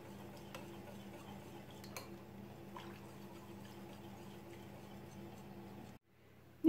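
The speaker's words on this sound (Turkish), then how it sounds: "Hiç topak kalmayacak şekilde ve yumurtamız hiç sarı kalmayacak şekilde güzelce çırpalım ki içinde pişmesin." A whisk beats a smooth mix of starch, egg yolk and milk for baked rice pudding, a soft, steady ticking and stirring against the bowl that runs faintly, then briefly stops near the end.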